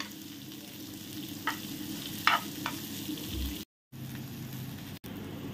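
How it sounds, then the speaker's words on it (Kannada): Onion fries gently in oil on a slow flame, giving a soft, steady sizzle with a few light stirring clicks and one brief dropout. "ಅಷ್ಟರವರೆಗೆ ಸ್ಲೋ ಫ್ಲೇಮಲ್ಲೇ ಫ್ರೈ ಮಾಡಬೇಕು."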